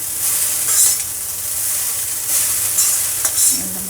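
Chow mein noodles are tossed in a hot kadai, giving a loud, steady sizzle that swells with each toss and carries occasional soft scrapes and clinks.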